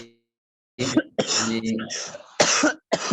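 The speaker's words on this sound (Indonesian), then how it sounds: "tolong yang batuk di mute dulu" A few sharp coughs in quick succession on a video call, close and fairly loud, with brief throat noise between bursts.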